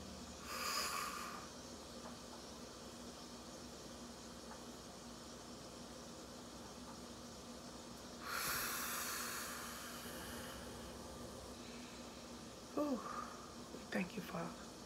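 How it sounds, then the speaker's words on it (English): Deep breaths drawn in and let out, two long airy hissing exhales spaced several seconds apart, close and soft, followed by faint mouth sounds near the end. "So let's breathe in and breathe out and get our day started."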